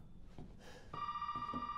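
A telephone rings in Resident Evil 7, a steady electronic bell tone starting about halfway through and holding loud with a clear repeating pulse, after a few dull thuds and faint movement.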